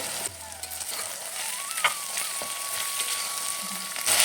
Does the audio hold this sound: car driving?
no